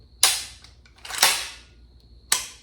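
Remington Model 760 pump-action rifle dry fired and cycled, giving three sharp metallic clacks about a second apart, close and loud with short decays and faint mechanical rattles between.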